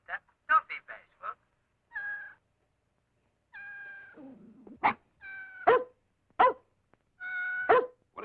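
In an old radio drama, a dog lets out four sharp, close barks in quick succession, mixed with a kitten's meows and brief squeaks, against otherwise quiet gaps.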